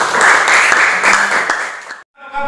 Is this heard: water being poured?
no